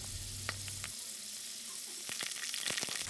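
Garlic scapes fry in oil with a constant sizzling hiss, then sharp popping crackles cluster toward the end, loud and close.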